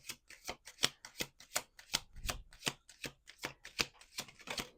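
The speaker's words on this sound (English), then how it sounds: "Let's do 2 more shuffles." Tarot cards are shuffled by hand in a quick, crisp run of riffling bursts, about a dozen in close succession, near and fairly quiet, with no talk.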